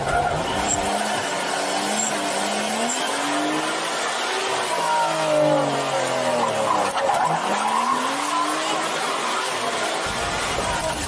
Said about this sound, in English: car and the screeching tires